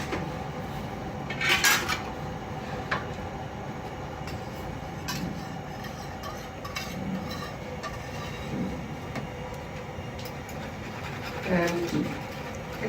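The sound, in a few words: whisking in a pot with a metal whisk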